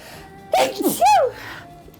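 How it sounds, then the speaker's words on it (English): A single loud sneeze up close, a sharp intake followed by an explosive burst, then quiet. "I'm about to sneeze."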